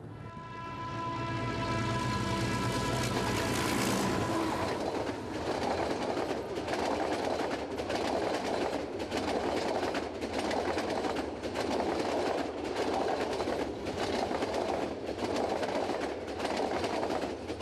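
A train rumbles past nearby with a steady roar and regular rhythmic clacking of wheels over rail joints, a horn-like tone sounding at the start.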